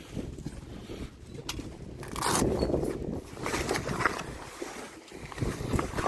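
A zipper on the cover of a Maxi Mixer 35 sailboat is worked open, giving a long scraping zip with rustling fabric and a few tugs, heard close up over faint outdoor wind without voices.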